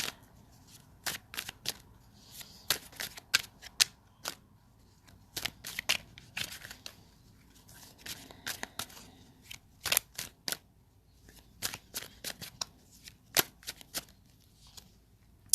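Tarot cards are shuffled by hand, with crisp riffling clicks and soft slides coming in irregular bursts for about fifteen seconds. No one speaks.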